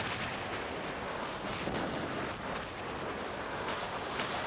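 Robot weapons fire in the War Robots video game: loud, dense booming bursts that come close together and run continuously, with no talk over them.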